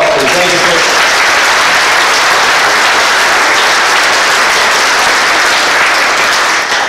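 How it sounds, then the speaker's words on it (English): A convention audience of police officers gives a loud, dense round of applause for candidates. The close, sustained clapping fills the room for about seven seconds without a break, with a faint murmur of crowd voices under it. "Give them a round of applause, please."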